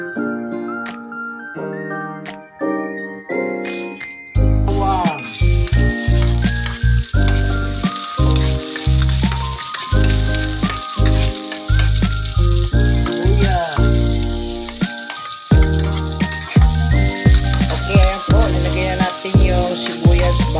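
Cooking oil for pancit sizzles and crackles loudly in a pan, joined by clinks and stirring knocks of a utensil, close and steady after a quieter start.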